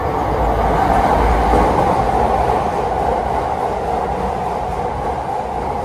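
A Japanese train rushes through a station platform without stopping, a steady loud roar and rumble of cars passing close for several seconds.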